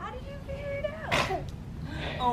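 One sharp sneeze bursts out close by, surrounded by people talking.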